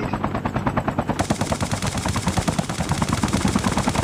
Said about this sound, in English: Yo, we're getting shot at.